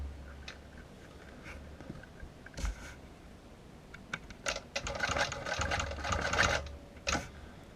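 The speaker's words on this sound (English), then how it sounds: "and then just stitching kind of this little crescent shape in this border here" A sewing machine stitches a small crescent shape into a quilt border, running in faint, short bursts at first and then in a longer steady whir near the end, with no talking.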